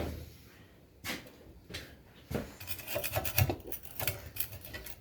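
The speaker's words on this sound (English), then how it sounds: "All right, let me go ahead and get a scraper." A metal scraper rasps across the glass of fireplace doors, clearing away broken glass in several short, uneven scraping strokes that come close by and carry no speech.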